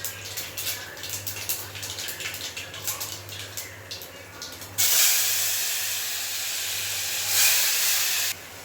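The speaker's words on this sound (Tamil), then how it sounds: "குழம்பு நல்லா கொதிச்சிருச்சேன் கொதிச்சு நல்லா வத்திருச்சு" A pot of fish kuzhambu bubbles and reduces on the stove, giving a steady steamy hiss that swells suddenly louder midway and then holds, with no talk over it.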